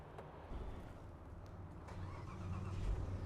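A 2010 Cadillac SRX with a no-crank, no-start fault cranks and catches, the starter whirring faintly before the engine fires and settles into a low, rising rumble near the close.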